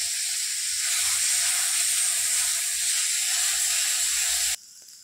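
Onion and garlic paste with green chilies fries in a pan for a taro curry, giving a loud, even, continuous hiss up close that cuts off abruptly near the end, no voices.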